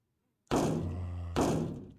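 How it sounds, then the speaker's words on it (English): Minecraft zombie sound effect in a video game: two heavy, hollow thuds about a second apart, the first ringing out with a low droning tail, loud and close. "What was that Minecraft zombie sound effect?"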